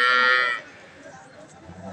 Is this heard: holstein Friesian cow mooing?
yes